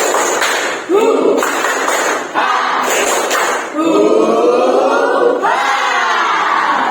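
A classroom of students performs the 'tepuk semangat' clapping chant, with steady rhythmic group claps and shouted voices in unison, loud and close, in repeated bursts.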